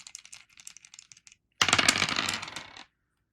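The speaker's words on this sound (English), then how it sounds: "Let's roll the dice." Dice are rolled for the board game Under Falling Skies, first a quiet run of small clicks, then a loud dense rattle of several dice tumbling together for about a second, close by.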